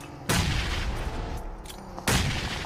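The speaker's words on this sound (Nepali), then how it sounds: "ओइ स्टिकी बम रहेछ" A sticky bomb explodes in PUBG, a mobile battle-royale shooter: two loud, sharp booms about two seconds apart, each followed by a rumbling decay, with no voices.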